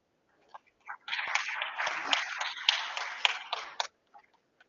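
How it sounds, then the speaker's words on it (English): Warm audience applause at a skill summit, a few scattered claps building into about three seconds of steady clapping before tapering off to isolated claps. "now I need a warm applause"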